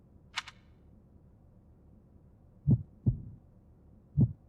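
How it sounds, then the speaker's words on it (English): Heartbeat sound effect from the video game Fire Emblem: Three Houses: three deep, thudding low beats, the first two close together and the third after a pause, preceded by a short brighter click, over a quiet background. "They hit you with the heartbeat."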